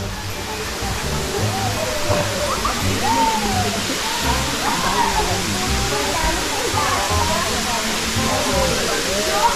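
Batlag Falls in Tanay, Rizal pours in a loud, steady wash of falling water heard up close, with faint voices under the continuous roar.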